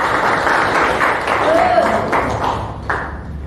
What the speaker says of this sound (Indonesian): Tepuk tangan ketiga.